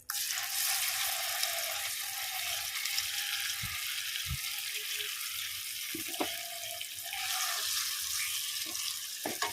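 Chutney frying in a hot tempering of cumin, mustard seeds and curry leaves, giving a steady close sizzle with occasional stirring knocks and clinks, no voices.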